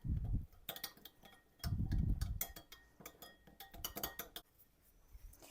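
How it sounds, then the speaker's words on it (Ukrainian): A utensil clinks and scrapes against a bowl in quick bursts of stirring seasoning ingredients for a meat rub, with softer thumps between strokes, close and unaccompanied by talk. "І змішуємо гарненько всі наші інгредієнти."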